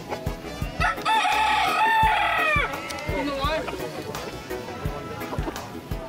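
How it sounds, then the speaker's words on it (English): A rooster crows loudly and close by on an island farmyard, one long drawn-out call with a shorter follow-up, while people chat casually in the background. "Rooster."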